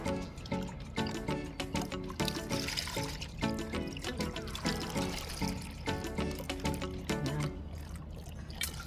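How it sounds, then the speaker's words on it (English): Water pours steadily into a pot of Jamaican curry goat in coconut milk for several seconds, a close, continuous trickling splash with faint background clatter. "I'm adding some water."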